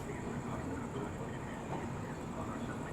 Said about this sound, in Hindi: ये देखिए गाड़ी कटनी जंक्शन से निकल रही है